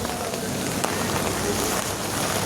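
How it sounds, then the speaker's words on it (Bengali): Heavy rain drums on an umbrella held overhead by someone walking outdoors on a rainy night, a dense, close, steady patter with no talk. "বৃষ্টিও পড়তেছে মাথার উপরে ছাতা নিয়ে।"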